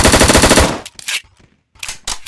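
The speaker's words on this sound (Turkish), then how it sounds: "taramalı taramalı tüfek." Rapid burst of machine gun fire in a video game, a loud rattling stream of shots for under a second, then scattered quieter game sounds and a couple of short bursts after a pause.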